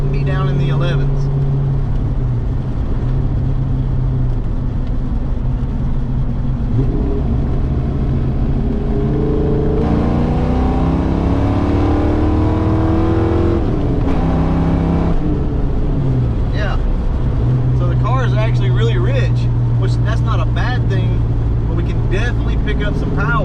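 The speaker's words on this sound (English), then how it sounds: "I'm going to go down to third gear and we're going to see what this thing does at full throttle." A naturally aspirated car with 19-pound injectors pulls hard at full throttle in third gear, its engine note climbing in a long loud rising sweep, with a shift and steady road roar throughout; a voice talks over parts of it.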